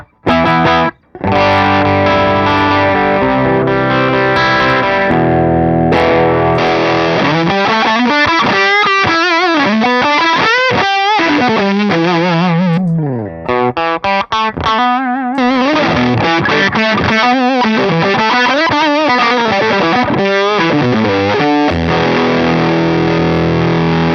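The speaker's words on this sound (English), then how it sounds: "It's unlike a lot of other distortion pedals that I've played." Electric guitar played through a JHS PG-14 distortion pedal: loud, saturated chords and sliding, bending lead notes with short breaks between phrases, and no talking.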